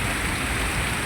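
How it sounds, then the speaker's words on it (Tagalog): Heavy downpour pounding steadily near a rural hut, a dense, unbroken roar of rain on surfaces with no voices. "napakalakas ng ulan oh"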